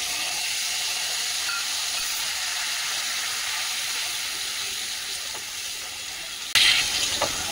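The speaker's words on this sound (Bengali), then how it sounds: "এখন টমেটো আর আদা বাটাটা দিয়ে দিচ্ছি" Tomato and ginger paste sizzles in a pan as a steady broadband hiss, with a louder, brighter sizzling burst near the end as the paste hits hot oil.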